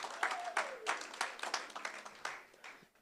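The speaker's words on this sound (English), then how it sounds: "Another round of applause for them," A summit audience gives scattered applause for a panel of speakers, with uneven, separate claps over a faint tone and some background murmur.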